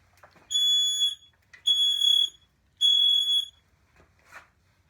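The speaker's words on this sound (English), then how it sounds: "Smoke alarm." Three loud, piercing electronic beeps from a smoke alarm, evenly spaced, each lasting about half a second, with quiet gaps between them.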